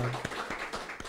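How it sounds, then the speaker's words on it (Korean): Church congregation clapping during a Korean Thanksgiving service, a sparse, scattered patter of hand claps at moderate distance, brief and unaccompanied by speech. "우리 수고하신 우리 장로님, 권사님, 우리 집사님 위에 박수 한번 드립시다."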